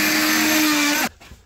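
A Diablo multitool carbide blade buzzes loudly through oak, a steady high oscillating whine that cuts off abruptly near the end.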